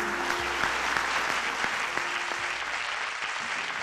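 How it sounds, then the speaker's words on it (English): Audience applauding steadily throughout at an awards night, a dense, even wash of clapping with no voices over it. "A round of applause, please."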